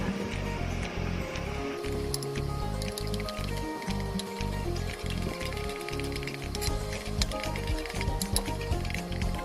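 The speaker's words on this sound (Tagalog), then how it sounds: "Pero haluin muna natin." Homemade pizza sauce made from tomato paste gets stirred in a pan, a steady wet squishing and faint sizzle running throughout, close and moderately loud with no talk.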